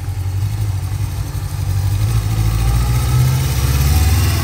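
A restored 1978 Honda CB550K Four motorcycle idles nearby with a steady, even low-pitched purr that grows slightly fuller and louder toward the end.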